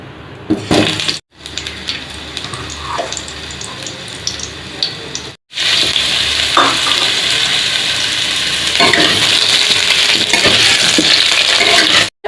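Potatoes frying in hot oil in a pan, a loud, continuous sizzle with scraping stirs, broken by two short silent cuts before the frying resumes even louder.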